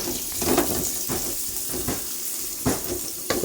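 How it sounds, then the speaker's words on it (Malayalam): Sliced onions sizzling steadily in hot oil with mustard seeds in a pan, with a spoon periodically scraping and stirring through them; close, continuous frying hiss with no talk. "സവോള ഇടാം. നമുക്ക് ജസ്റ്റ് ഒന്ന് ഇളക്കി കൊടുക്കാം."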